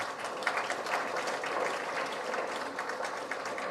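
Audience applauding at an award and felicitation ceremony attended by Governor R.N. Ravi, steady dense clapping throughout at moderate level with no voices.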